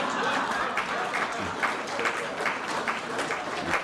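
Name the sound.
audience applause at Pride Week event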